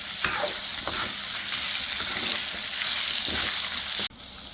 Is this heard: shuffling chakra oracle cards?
no